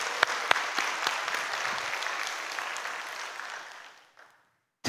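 A church congregation claps in a steady burst of applause with some sharp individual claps, the applause tapering off into silence before a brief sound at the very end.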